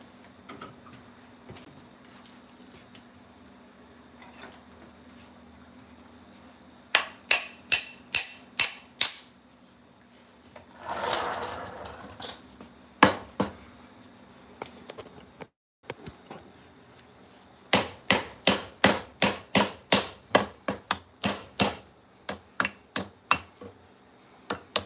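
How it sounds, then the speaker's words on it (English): A heavier hammer strikes in quick bursts of sharp, loud blows with short pauses between runs, plus a brief scraping noise partway through. "Alrighty, time to get a little bit of a heavier hammer."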